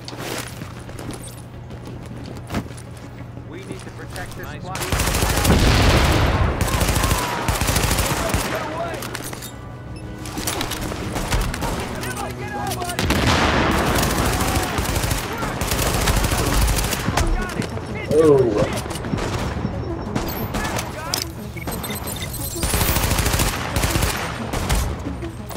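Rapid automatic gunfire from the video game Tom Clancy's The Division rattles in sustained bursts over the whole stretch, loud and dense, with a player's voice talking over it at times.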